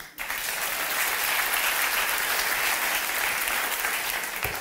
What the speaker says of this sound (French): Maintenant, par applaudissement, qui mange des animaux?